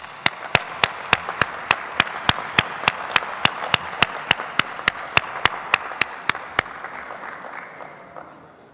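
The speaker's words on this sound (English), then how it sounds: "It's big applause." Delegates at a canoe federation congress give steady, rhythmic applause, a dense run of evenly spaced claps that carries on for several seconds before fading out.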